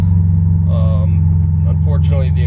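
Subaru STI with a muffled aftermarket exhaust, a steady, deep, low engine drone heard from inside the car while driving. Someone talks over the constant rumble the whole time.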